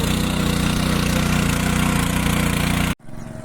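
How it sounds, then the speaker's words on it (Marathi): A tractor engine chugs steadily and loudly close by while ploughing a field in Konkan during the monsoon, then cuts off abruptly near the end. "बघा ट्रॅक्टर इकडे चालू होत नांगरणी चालू आहात"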